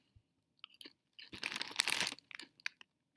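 Doritos chips of a sweet-heat flavour are bitten and chewed up close, a few sharp isolated crunches building into a dense burst of crackling mastication, then trailing off into scattered crunches in a quiet room.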